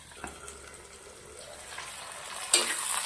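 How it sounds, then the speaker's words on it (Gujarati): Ivy gourd (kundru) pieces sizzle softly in hot oil in a pan for masala pulao, a quiet, continuous frying hiss with a few small crackles and one louder spatter near the end. "આને પાંચ મિનિટ સુધી તેલના અંદર શેકાવા દેવાનું છે"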